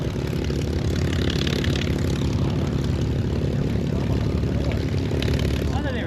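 A loud, steady roar of a large Merlin propeller aircraft engine running nearby at the Oshkosh aviation festival, continuous and unbroken throughout.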